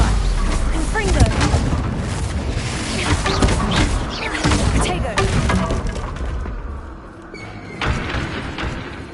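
Blasting-spell explosions from the Hogwarts Legacy video game: a rapid string of loud, crackling booms and shattering bursts that comes in waves, with shouted spell words mixed in.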